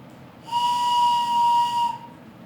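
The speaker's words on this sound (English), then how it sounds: "It even has a whistle." A whistle built into a walking stick gives one steady, shrill, fairly loud tone lasting about one and a half seconds, with no talking.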